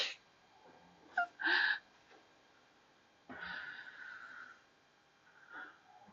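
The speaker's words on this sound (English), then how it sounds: "I don't know if you hear my pug, but she is snoring really loudly." Pug dog snoring indoors, a few faint wheezing, snorting breaths spaced out over quiet moments, soft and close with no talking.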